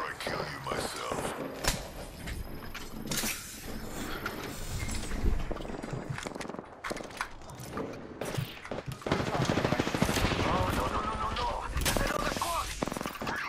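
Bursts of gunfire in the video game Apex Legends, rapid shots rattling at middle distance over a steady bed of game noise, with players talking over it at times.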